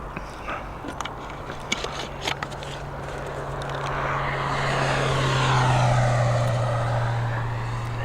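A Boeing 737 taxis at Dublin Airport, its jet engine roar swelling from a distant whine to a broad, loud rumble with a steady low drone underneath, and a few light clicks early on.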